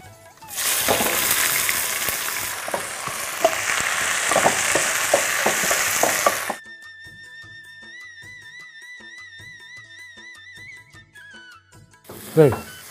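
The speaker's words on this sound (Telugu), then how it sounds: "జుప్పై ఉల్లిపాయ బాగా వేగాలరా." Sliced onions fry loudly in hot oil with whole spices in a restaurant kitchen pan, a dense close sizzle with stirring scrapes that stops abruptly, followed by quieter background music.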